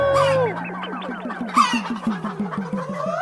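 A man imitating a rooster, giving a close, loud crowing call with rising and falling whoops followed by a rapid run of clucking pulses.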